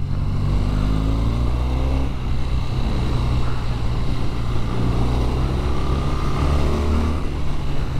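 A 2024 BMW R12 NineT motorcycle cruises along a winding road, its engine note steady and loud from onboard, laid over constant wind rush with slight pitch shifts as the throttle changes.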